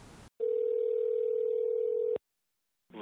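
A telephone ringback tone sounds while a number is being called: one long steady electronic tone after a short burst of noise, then silence before another sound begins.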